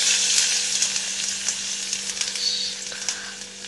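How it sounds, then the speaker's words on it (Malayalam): Finely chopped ginger fries in hot coconut oil with a steady, close sizzle and light crackling, while occasional soft stirring sounds come through. "അപ്പം ഞാൻ അതിലേക്ക് ചെറുതായി അരിഞ്ഞ് വെച്ച ഇഞ്ചി ഇട്ട് കൊടുക്കുന്നുണ്ട്"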